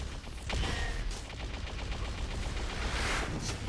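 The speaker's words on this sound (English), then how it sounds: "rockets coming out for him" Rocket launcher fire and explosions in an Unreal Tournament Blitz team match, a loud, dense run of blasts and bursts lasting several seconds with constant clutter and no talk.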